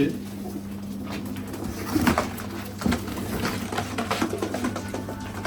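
Isparta-breed pigeons coo softly over a steady low hum, with a few louder coos and rustles scattered through, while someone talks nearby.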